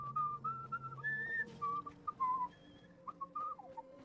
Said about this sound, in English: Good job, dude. With that whistling.